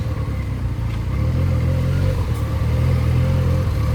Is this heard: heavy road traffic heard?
yes